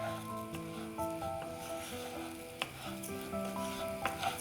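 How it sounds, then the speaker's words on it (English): Basmati rice is stirred in oil with an onion mixture in a pan, giving a soft scraping and sizzling hiss under a steady background of music. "Give that a stir. Coat the rice with the oil and the onion mixture."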